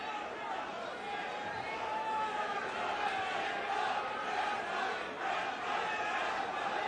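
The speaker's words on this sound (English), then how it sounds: "Crowd starting to chant, Shamrock, Shamrock." A virtual arena crowd in the UFC 3 video game chants for fighter Ken Shamrock during a bout, a dense, steady roar of many voices that stays at a moderate distance throughout.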